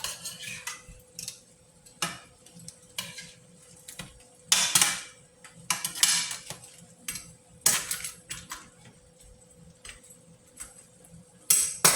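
A metal utensil stirs food in a home cooking pot, producing intermittent clinks and scrapes against the pot in irregular bursts over a quiet background.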